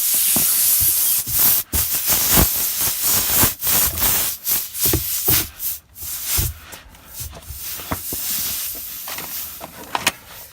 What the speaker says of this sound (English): You can feel the air coming out now.